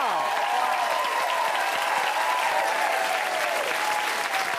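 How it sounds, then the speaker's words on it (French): A studio audience on a television show gives sustained, loud, even applause as a judge comes on stage, a dense wash of clapping that runs without a break. "As-tu vu les applaudissements nourris que tu as eus, Gaston?"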